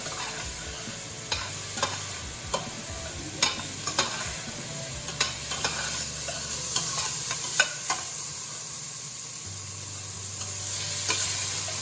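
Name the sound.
stirring and cooking soup ingredients in a pot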